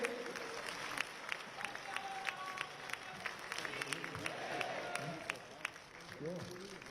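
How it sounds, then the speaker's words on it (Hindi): Audience at a book launch ceremony at Delhi University clapping steadily, a dense, even patter of many hands with a faint voice or two underneath. "तालियों के साथ अभिनंदन करें"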